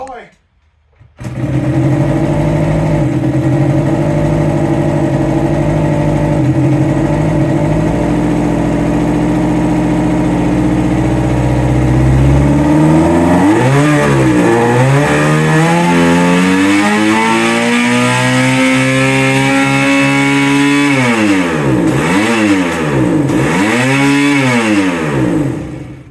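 A barn-find Suzuki GT185 two-stroke twin motorcycle with a rebuilt carburetor and a sticking throttle runs loud and close, holding a steady buzzing idle before climbing through several rising and falling revs, with people talking over it.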